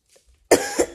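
A person with a lingering cough lets out a loud, close cough in two or three harsh bursts after a brief near-silence, with no talking.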